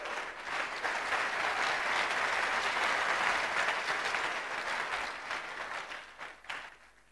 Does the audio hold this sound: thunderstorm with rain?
no